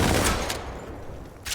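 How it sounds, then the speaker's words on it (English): A grenade explodes in a video game, giving a loud, sharp blast that fades out, followed by a second, shorter burst near the end. "Throwing a grenade. Say it's on the other side. Bang."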